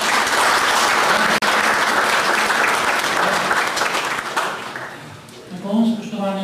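Sustained applause from an audience at an association assembly in Lukovica, loud and dense for several seconds, fading slightly near the end as a voice begins to speak over it.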